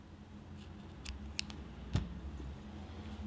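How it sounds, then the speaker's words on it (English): Scissors cut yarn while someone crochets slippers, giving a few quiet snips close by, with the sharpest cut near the middle, over a low background hum. "and then cut the yarn"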